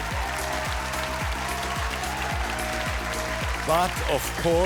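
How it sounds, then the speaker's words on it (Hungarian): A televised classical music competition audience applauds the semifinal contestants, a broad wash of clapping under prominent music with falling tones and a voice rising near the end. "Még egy nagy tapsot kérek!"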